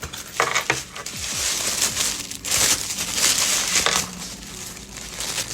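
Crinkling and rustling of packaging as a Labradorite crystal heart is unwrapped up close, with bursts of crumpling paper or plastic and small knocks coming in irregular handfuls.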